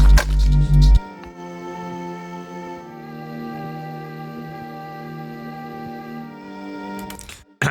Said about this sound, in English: Naked, the pad sounds like this